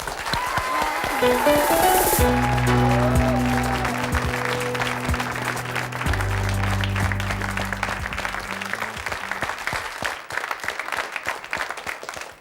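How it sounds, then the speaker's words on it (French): Studio audience applause on a French television talk show welcoming a guest: a steady wash of crowd clapping that continues throughout, mixed with a musical jingle in the first part and trailing off at the close. "Elle s'appelle Sophie et je vous demande de l'applaudir"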